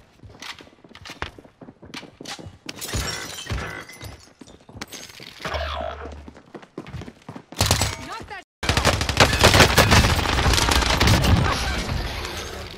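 QBZ-83 gunfire in Warzone comes as bursts of rapid shots mixed with footsteps and other game effects, ending in a long, loud sustained stretch of fire, with some talk in places.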